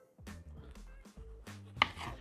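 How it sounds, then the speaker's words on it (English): Knife chopping through firm green tomatoes on a cutting board for Southern fried green tomatoes, with several distinct cuts at an uneven pace, close and fairly loud, with no talking. "we're gonna get ready to slice them up"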